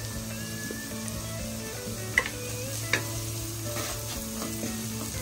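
Oil sizzles steadily in a pan of fried onions with salt and turmeric, with faint scraping and a couple of sharp taps as ingredients are stirred.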